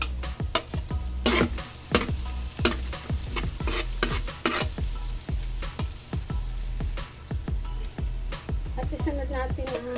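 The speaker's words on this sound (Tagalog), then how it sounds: "Dahil tunaw na, lagay na natin ang" Garlic sautés in melted butter and a little oil while a utensil repeatedly scrapes and taps the pan, sharp rhythmic clinks over a constant sizzle.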